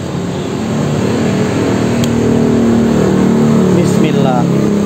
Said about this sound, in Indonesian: Nah, kita coba panasin motornya dulu, cuy.